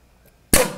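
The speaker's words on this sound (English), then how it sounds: "And the cannon fires." A confetti cannon fires once after a short silence, a sharp close pop followed by a quick rushing burst that fades within a fraction of a second.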